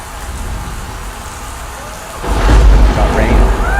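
Rain pours steadily in a song intro, then a deep rumble of thunder swells in about halfway through, heavy and close, with the downpour continuing underneath.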